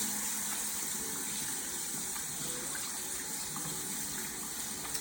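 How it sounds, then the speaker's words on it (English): Tap water runs steadily for handwashing, likely at an outdoor cooking spot while ribs are prepared for a Masterbuilt smoker, a constant gushing stream at moderate level with no talk. "Let's wash our hands."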